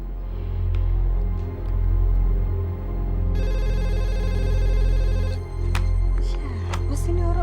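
A telephone ringing indoors, a sharp electronic trill that starts partway through and rings steadily for a couple of seconds over a loud low background hum, then stops.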